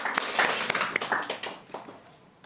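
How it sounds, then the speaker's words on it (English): Short burst of audience applause for a startup founder at an ocean-startup pitch event, scattered claps rising briefly and then thinning out and fading within a couple of seconds. "You can give her a little quick round of applause"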